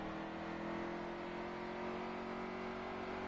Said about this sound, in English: Bobby's slowing down a bit around these corners. You can really hear the motor slowing down.